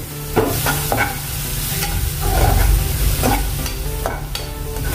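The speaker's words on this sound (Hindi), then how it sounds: "सिर्फ लहसुन का कच्चापन जाना चाहिए, उतना ही इसको भूनना है" Garlic sizzles steadily in hot oil, with periodic scraping as a spoon stirs the pan up close.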